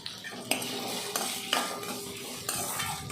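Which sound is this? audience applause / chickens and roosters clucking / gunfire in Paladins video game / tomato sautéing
tomato sautéing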